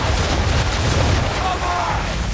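Ship cannons fire a broadside in the Assassin's Creed 3 video game, a dense, loud wash of overlapping booms and rumble that fills the whole moment.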